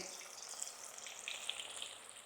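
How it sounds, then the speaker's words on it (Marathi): Dal deep-frying in hot oil gives a faint, continuous hiss with scattered tiny pops and crackles, heard quietly and alone. "ह्याच पद्धतीने संपूर्ण डाळ मी आता ही तळून घेते"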